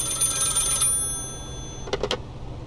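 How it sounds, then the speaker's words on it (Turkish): Telephone in the Contraband Police game ringing: a bright electronic trill sustains for nearly a second, then after a pause three short rings pulse out, loud and clear over a low background hum with no talk. "Telefon gelmiş."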